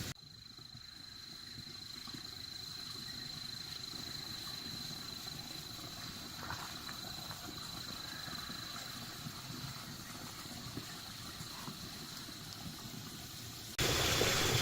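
Water running at a tent campsite at night, a steady continuous wash with a faint constant hum beneath it, unchanging for most of the stretch before a sudden louder rise at the end.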